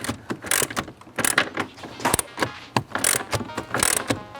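A ratchet tightens a front bumper cover bolt on a 1999 Ferrari 360 Modena, giving repeated close clicking strokes in uneven bursts, fairly loud and steady throughout with no voices.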